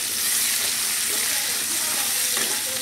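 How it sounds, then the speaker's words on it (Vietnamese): Straw mushrooms stir-fried in a pan with garlic, giving a loud, steady sizzle with light scraping and stirring clatter close by, without any talk. "Rồi mình sẽ xào nấm ra."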